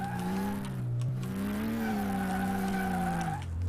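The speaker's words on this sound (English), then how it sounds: "No boxer engine I've heard sounds like this" Porsche 911 RS America boxer engine in Car Mechanic Simulator 2018, a loud continuous rough mechanical drone with wavering pitch, rising slightly then dropping near the end, heard alone.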